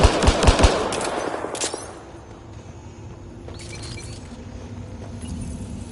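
An automated turret in Mass Effect Andromeda fires a quick, loud burst of rapid shots with sharp impacts, then the noise fades to a low, steady background hum.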